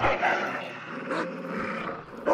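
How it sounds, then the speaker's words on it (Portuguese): Dog in the video game Hunt: Showdown gives a low, rough growl with brief snarling bursts, close and fairly loud. "Ah, tá ali o cão."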